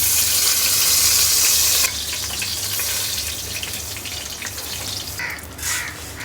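Rice for pulao frying in a pot, giving a loud, steady broadband hiss that eases off partway through, with crows cawing nearby toward the end.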